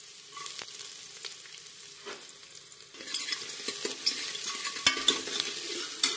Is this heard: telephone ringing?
no